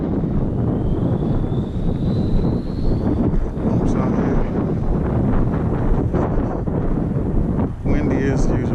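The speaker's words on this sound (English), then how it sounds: "Windy as usual." Strong outdoor wind buffets the microphone steadily throughout, a constant low roar, with a faint high whine from a Team Associated DR10 RC car passing in the background.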